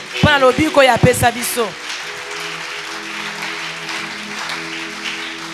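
A church congregation applauds and cheers after a preacher's loud exclamation, the clapping settling into a steady dense patter that continues under a sustained hum.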